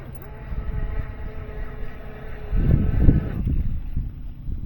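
Proboat Sonic Wake RC boat under way on the water, a steady electric motor whine heard from a distance with wind rumble over the microphone, surging louder toward the end as the throttle rises.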